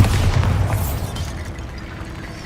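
A deep booming blast from the Bombarda spell in the video game Hogwarts Legacy, loud at the start and then rumbling and fading over a couple of seconds.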